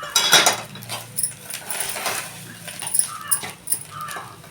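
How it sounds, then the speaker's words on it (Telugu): Small jana fish tossed with chilli powder and salt in a pan, stirred with a metal spoon that clinks and scrapes close by, while a dog whimpers and yips in the background. "కారం ఉప్పు వేసాను కదా, కదుపుతున్నాను."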